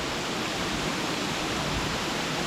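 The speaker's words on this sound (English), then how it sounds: "There's a lot of water coming over right now" A continuous hiss-like roar of Mackenzie Falls carrying a lot of water, even and unchanging throughout, heard from a little way off the base with nobody speaking.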